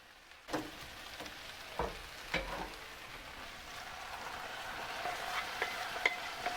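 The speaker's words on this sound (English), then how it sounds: "With those in, I'll add the meat." Fajita meat frying in a hot pan gives a low, steady sizzle, with a few sharp clatters of stirring or food dropping in near the start and a slowly rising hiss toward the end.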